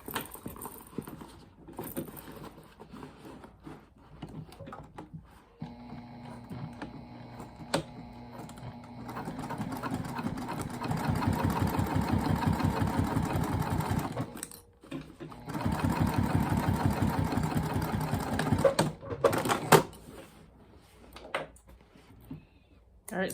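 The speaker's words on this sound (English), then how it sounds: "I'm gonna go 1/2 inch down and do a second line of stitching" A sewing machine runs in two steady bursts of rapid mechanical stitching as a second line of stitching is sewn along the bottom of a fabric retreat bag, with quieter handling before and a pause between runs.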